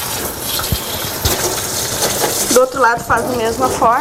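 Water is poured over a dog during a bath, a running, splashing flow that carries on steadily while someone talks over it.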